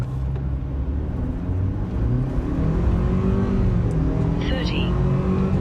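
A 2023 Ford Ranger pickup truck accelerates hard from a standstill toward 60 mph, its engine building in a steady loud drone with rising pitch, heard from inside the cab.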